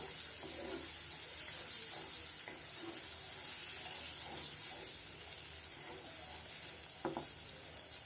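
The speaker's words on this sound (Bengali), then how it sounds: "টক দইটা দিয়ে আমি ভালোভাবে মিশিয়ে নেব।" Thick sour yogurt stirred into spices sizzling in a pan for a chicken roast, a constant soft frying hiss with occasional clicks and scrapes of the spoon against the pan.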